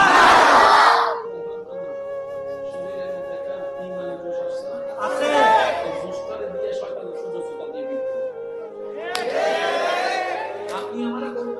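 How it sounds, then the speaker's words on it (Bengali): A large crowd at an outdoor Islamic sermon gathering shouts "Marhaba" together, three loud massed cries separated by gaps, with a steady reverberant tone from the public address system ringing underneath throughout. "আর উচ্চ আওয়াজে একবার বলেন মারহাবা।"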